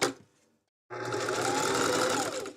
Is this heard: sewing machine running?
yes